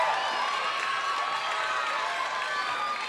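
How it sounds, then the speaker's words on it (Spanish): Festival crowd at La Nao in Acapulco applauding, a dense, even wash of clapping and faint cheering heard from some distance, steady for about three seconds with no clear talk. "Fuerte el aplauso para Benji, el Azteca, el original Azteca de"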